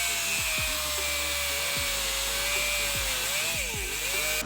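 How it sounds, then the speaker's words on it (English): Cutting through a seized bolt on a V-band clamp during a BMW F30 340 turbo install, a steady high-pitched power-tool whine running continuously with small pitch wavers and repeated low knocks and scrapes beneath it. "we're probably gonna just end up cutting the bolt and removing the whole thing"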